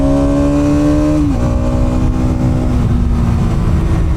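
Bajaj Pulsar NS 200 motorcycle climbing uphill and shifting down gears without the clutch: a loud, close, steady engine drone whose pitch drops sharply at one shift, then runs on at the lower note.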